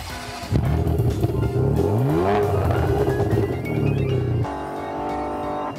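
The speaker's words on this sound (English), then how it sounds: "The sound of this car is unbelievable." A sports car engine revs hard and climbs through the gears with a rising growl, loud and close, before easing off into a steadier hum.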